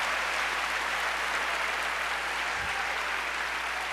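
A church congregation applauds during a Baptist morning service, a steady, even wash of clapping filling the space from start to finish, with a low hum underneath.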